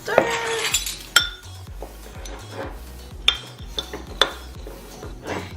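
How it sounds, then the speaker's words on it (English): A spoon stirs a coffee body scrub mixture with melted coconut oil in a glass bowl, giving bright clinks and scraping taps against the glass, close and moderately loud, with a low hum underneath. "Give it a stir."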